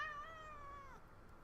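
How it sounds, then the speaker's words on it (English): A cat meows for food, one drawn-out, whiny meow that falls in pitch, faint and alone against quiet room noise. "he starts at 3:30 with this meowing at me for food"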